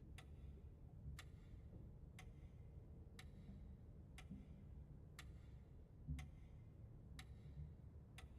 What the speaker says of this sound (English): Yeah, I hear the clock. I just don't see it.